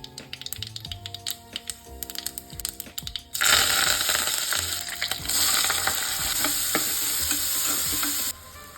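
Oil with mustard seeds, cumin and curry leaves dropped into a pan for a South Indian one-pot meal: a few seconds of stirring clicks, then a sudden loud continuous sizzle with spattering pops that cuts off near the end.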